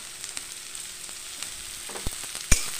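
Chopped green chilli and tomato fry in a pan, a soft even sizzle punctuated by a few brief spatula clicks and one sharper knock near the end, with no one speaking.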